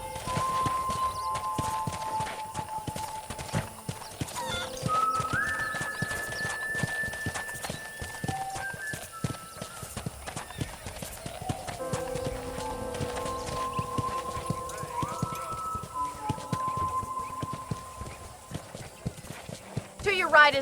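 Horse hooves clip-clop steadily as a horse is ridden at a walk around a ranch in the video game Red Dead Redemption, with someone talking over the hoofbeats and a soft musical tone in the background.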